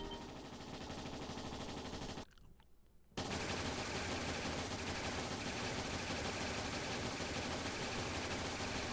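Powder guns firing in a sustained barrage, a rapid, continuous rattle of gunfire that drops out for about a second, then resumes louder and keeps going steadily.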